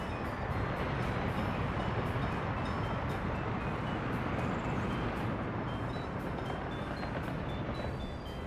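A freight train rolls through the Soviet-era city-builder game Workers & Resources: Soviet Republic, a steady broadband rumble and rattle of rail cars with faint clicks on top, continuous and fairly loud without talk.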